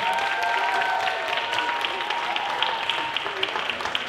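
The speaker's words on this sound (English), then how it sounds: "Big round of applause, please" Audience applause at a talent show, a steady wash of many hands clapping that fills the room, continuous and moderately loud with no voices over it.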